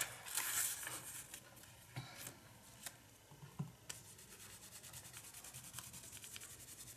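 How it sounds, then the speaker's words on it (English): A densely bristled brush scrubs back and forth across a journal page, a faint, close, papery rubbing with a few soft taps, steady and fine-grained, no voices. "when you rub it and scrub it back and forth like this"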